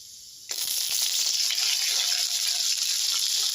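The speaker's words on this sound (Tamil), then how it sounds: "நல்லா பொரிஞ்சு வர அளவுக்கு வச்சிடலாம் ஃப்ரெண்ட்ஸ் உளுந்து பருப்பு போட்டுக்கலாம்" Urad dal and three dried red chillies frying in hot oil for kara chutney, a steady dense sizzle that bursts on abruptly and holds loud and even throughout, with no voices.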